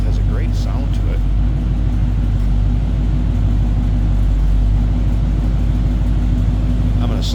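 A 1977 Chevrolet Silverado C10 pickup engine idles at a close, loud, steady level with a deep, smooth rumble that holds unchanged from start to finish.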